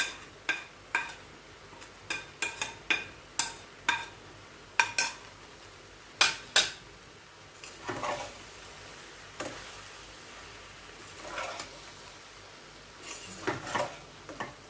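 Keema mince stirred and frying in a pan with soya and mushroom: repeated sharp clinks of a utensil against the pan over a soft sizzle, fairly close, with quieter scraping later.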